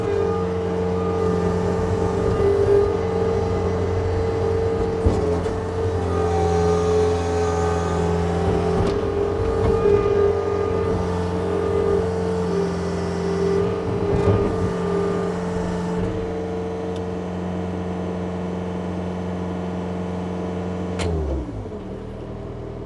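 A 2016 John Deere 320E rubber-tire skid steer loader engine runs steadily with a droning hum, then drops as auto idle kicks in near the end; close and loud, no talking.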